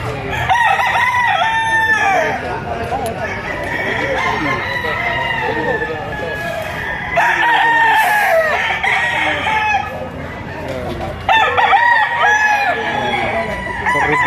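Roosters crow repeatedly at a busy chicken market in Batangas, several loud cock-a-doodle-doos overlapping with clucking fowl and faint talk among people nearby.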